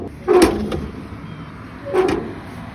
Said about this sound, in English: Man, the traffic is extra loud this morning.